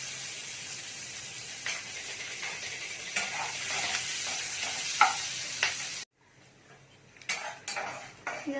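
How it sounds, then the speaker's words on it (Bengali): Chopped onion and green chillies frying in hot oil with panch phoron and two dried red chillies, a steady close sizzle with spoon stirring and scraping against the pan, dropping away briefly before clinks and stirring resume. "পেঁয়াজটা ভাজা হয়ে গেছে।"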